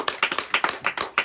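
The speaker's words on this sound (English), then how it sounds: "Clap it up for Hondo." Close, sharp handclaps at a cast meet-and-greet event, several quick irregular claps in a short burst, with no talking.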